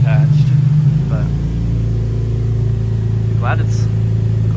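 A drift car's engine runs at a steady idle, a close, even mechanical hum with a constant low tone, while a voice briefly speaks over it.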